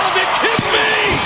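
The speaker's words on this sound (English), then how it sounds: "How did Lashley slam Viscera?" Bobby Lashley body-slams Viscera onto the ring mat in a 2007 WWE Raw match, a heavy thud landing mid-clip under a loud arena crowd and excited commentary.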